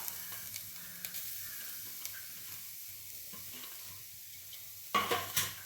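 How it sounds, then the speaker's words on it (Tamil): Grated coconut filling for kozhukattai being lightly dry-roasted and stirred in a heavy-bottomed pan, giving a soft continuous scraping sizzle with a few louder stirring scrapes near the end. "அதுக்காக லேசாக ஒரு சூடு காட்டின மாதிரி வறுத்துனா போதும்."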